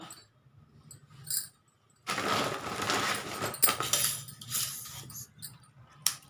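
Plastic basket wire cut with scissors or a cutter, heard as a few faint clicks, then a rustling, crackling stretch of handling up close, ending in sharp snips at a low level.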